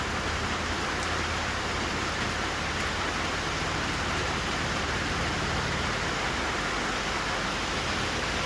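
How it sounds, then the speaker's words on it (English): Hard summer rain pours down at a lake as a dense, steady hiss close to the listener, even and unbroken, with no voices. "Raining hard and the sun's half out."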